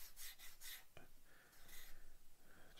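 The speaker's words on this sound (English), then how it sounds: "just one or two rubs with a stick" Short, raspy strokes of a medium sanding stick against plastic model parts, a few quick rubs in bursts, quiet and close.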